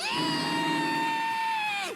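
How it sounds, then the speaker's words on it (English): A video game character lets out a single loud, high, drawn-out scream that holds steady for nearly two seconds before sliding downward and cutting off. "I can't take that scream seriously."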